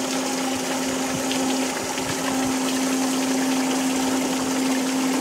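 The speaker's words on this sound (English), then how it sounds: "Okay, turn the pump on." Water pump running steadily during a Model A radiator flow test, a constant whirring hum with a strong single tone over rushing, gushing water, close and unbroken.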